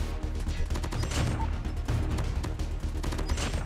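Rapid bursts from the Lapa submachine gun in Call of Duty Mobile, a dense close-range rattle of repeated shots running continuously with a few short gaps.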